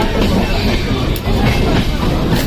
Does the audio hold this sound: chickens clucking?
no